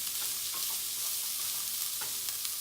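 Onions and tomato sautéing in a pan for cauliflower curry, giving a steady close sizzle with faint stirring scrapes and no talk.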